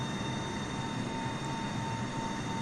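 Steady roar of Boeing 747-8 jet engines climbing after takeoff in Microsoft Flight Simulator 2020, a constant broadband rumble with a faint high whine held level throughout.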